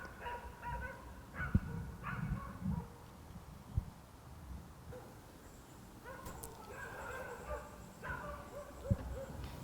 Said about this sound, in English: Rabid dogs in the background